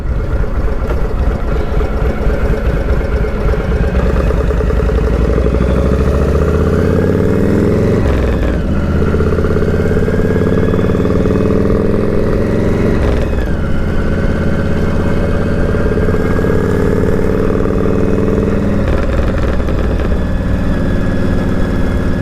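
A Harley-Davidson Panhead motorcycle engine runs steadily and loud throughout, its pitch rising and falling a few times as the throttle changes, with no voices.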